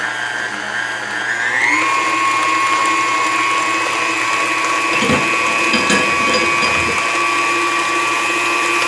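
An electric mixer beats banana bread batter with melted butter. Its motor whine climbs to a higher speed and then holds steady and loud, with a few clattering knocks partway through.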